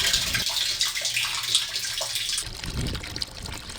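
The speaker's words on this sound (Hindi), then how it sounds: "तलबा आलूदा पानी इस प्लांट में डालते हैं" Polluted water, sewage or industrial waste, poured into a water purification plant, splashing and trickling steadily at moderate distance with faint gurgles throughout.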